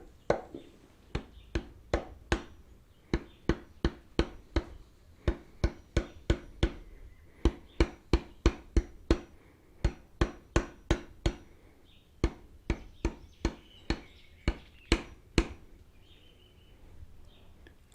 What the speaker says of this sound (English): I'm just going to tap it to see if we can separate the rod cap.